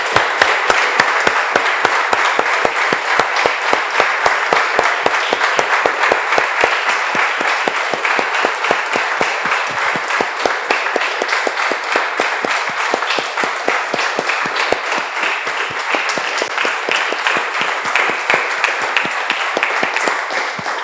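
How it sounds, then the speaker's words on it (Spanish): A church congregation applauds together after a closing prayer, a steady, dense wash of many hands clapping that stays loud and even for about twenty seconds with no talking over it. "Damos un aplauso, hermanos, al Señor."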